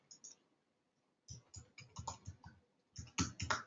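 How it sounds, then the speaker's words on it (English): Quick bursts of keyboard typing, crisp clicking keystrokes in uneven clusters after a brief pause, close and fairly quiet. "Typing it in for you."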